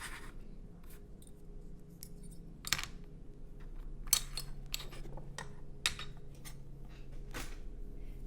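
Scissors cut out the face piece of a paper cupcake topper in soft, scattered snips, faint and close over a low background hum, with no talking.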